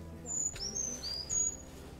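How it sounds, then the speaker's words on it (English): Brown creeper call at Birch Bay State Park, a few thin high-pitched chirping notes in short bursts, faint and distant over quiet outdoor ambience. "That was a brown creeper call."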